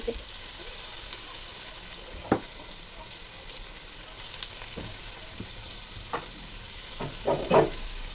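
Chopped onion and garlic frying in a pan for a coconut and taro-stolon curry, a soft steady sizzle broken by a few sharp scraping stirs near the end.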